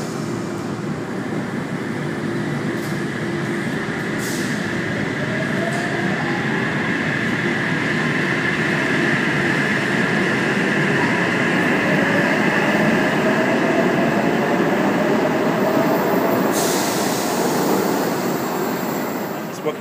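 A Sydney Trains service pulls away from the Town Hall platform: a steady, loud rumble of rolling carriages with faint wheel squeal, continuous for the whole stretch with no talk.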